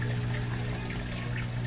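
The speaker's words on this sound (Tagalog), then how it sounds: "filtration system ng koi fish pond ko" Water filtration pump for a home koi fish pond with a UV light runs in a steady, continuous hum beneath a rushing, trickling flow of water, close and constant, with no voices.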